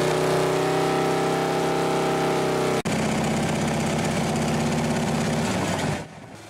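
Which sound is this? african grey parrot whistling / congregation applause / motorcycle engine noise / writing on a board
motorcycle engine noise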